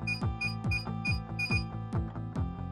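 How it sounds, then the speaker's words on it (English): A DJI Phantom 4 Pro remote controller beeping while linking to the drone, a regular series of short electronic beeps repeating about twice per second, close and clear. "Beeping will stop, and the remote controller indicator will turn green."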